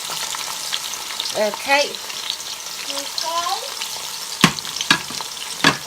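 Onions sizzle in a pan for a Ghanaian corned beef stew. The frying hiss runs steadily under brief spoken words, broken by a few sharp clatters of a utensil against the pan.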